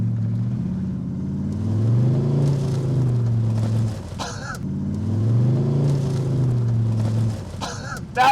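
A 1975 Chevrolet Corvette Stingray runs steadily, its engine rising and falling as it is driven around a yard, with two short bursts of rattling or knocking cutting through near the middle and at the end.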